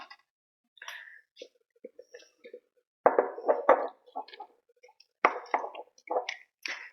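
A spoon stirs sticky sourdough starter in a jar, making scattered soft wet plops and light knocks against the glass, close and quiet, with irregular pauses between strokes.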